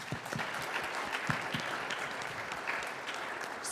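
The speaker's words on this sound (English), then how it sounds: "So give yourself a round of applause." A large audience at a NASA women's event gives a sustained round of applause, dense steady clapping throughout with no talk over it.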